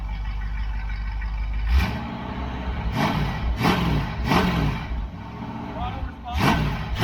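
A Dodge 318 V8 with mufflers, run for the first time in ten years, rumbles low and rises in several short revs under nearby voices.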